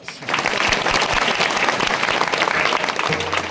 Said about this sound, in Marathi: त्याला जोरात टाळी वाजवा